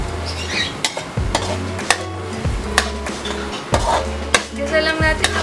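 Pancit lomi ingredients sautéed in a pan with soy sauce and fish sauce, with a sizzling base under a string of sharp utensil clacks and scrapes on the pan, close and busy.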